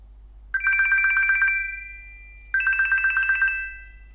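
A loud electronic find-device alert from a Google Pixel Watch 3 rings in two bursts, each a rapid pulsing chime of bright tones lasting about a second, separated by a short pause.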